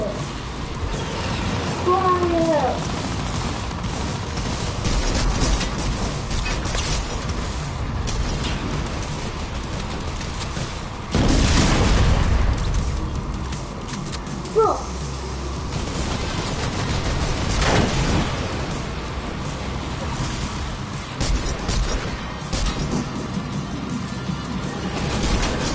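Rapid gunfire and crashing blasts from a Fortnite match fill the scene continuously, with bursts and loud impacts layered over game noise and occasional voices.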